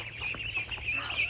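Small ducklings kept on a farm give a steady stream of high, close peeping and chattering, with no voices over them.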